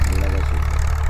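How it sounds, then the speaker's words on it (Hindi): A tractor engine runs nearby with a steady, low rumbling idle that holds constant throughout the short stretch, with no break in its drone. "यार ट्रैक्टर पीछे चल रहा है"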